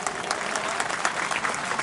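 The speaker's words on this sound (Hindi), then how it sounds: "एक बार जोरदार ताली।" A crowd at the closing of a Padma Purana religious discourse in Nagda claps steadily and loudly throughout, dense continuous applause with no voices standing out.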